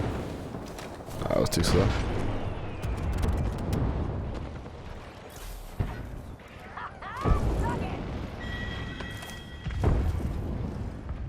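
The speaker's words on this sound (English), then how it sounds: "That's a grenade." A grenade goes off in a video game, a sudden broadband boom near the two-second mark standing out from ongoing gunfire-like bursts, with someone talking over the action before and after.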